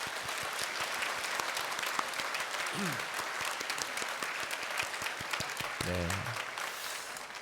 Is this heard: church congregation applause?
yes